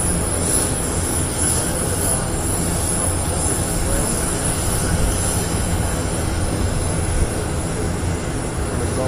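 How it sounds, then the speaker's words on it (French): Airbus A350-1000 wide-body jet airliner flying past at the Paris Air Show at Le Bourget, a loud steady engine roar with broadband rumble and a high whine holding throughout. "presenting just a couple of seconds now the very latest member of the A350 extra wide body family"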